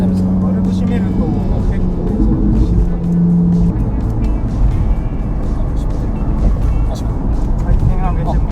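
A Ferrari 458 fitted with an aftermarket Power Craft exhaust, valve closed, revs its engine in a steady, throaty drone with a few rising pulls, heard under people talking.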